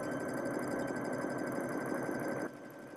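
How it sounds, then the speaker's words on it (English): A sewing machine runs an edge stitch in a continuous, even mechanical whir that stops abruptly near the end, leaving quieter background hum, with no speech. "So as I'm edge stitching,"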